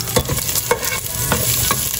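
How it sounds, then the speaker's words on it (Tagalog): Garlic, onion and ginger sauté in a hot pan, a loud continuous sizzle broken by several sharp spatula scrapes and clanks at irregular intervals. "Ako po muna ngayon ay magigisa po ng ricado. Yan, nakita pong pagsasabay-sabayin itong bawang sibuyas at luya."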